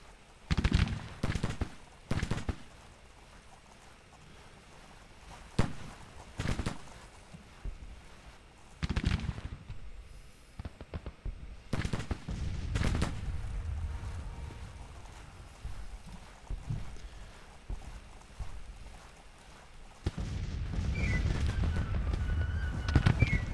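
Musket volleys in the strategy video game Grand Tactician: The Civil War, with repeated sharp crackling bursts of gunfire, some near and loud and others fainter and scattered, followed by a denser rumble of battle near the end.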